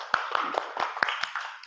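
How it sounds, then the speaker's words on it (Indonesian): A primary school class claps for group 1 after their presentation on organic and non-organic waste: a short burst of about eight sharp, fairly even hand claps, close and a little uneven in rhythm. "tepuk tangan untuk kelompok 1"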